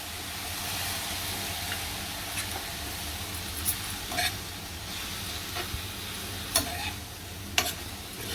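Mixed vegetables stir-frying in a pan over a medium gas flame, a steady broad sizzle with occasional sharp clinks of a spatula against the pan, no one talking.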